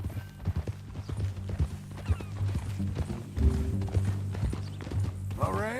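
A horse's hooves clip-clop steadily in Red Dead Redemption 2, a regular close hoofbeat rhythm with occasional whinnies and someone talking over it.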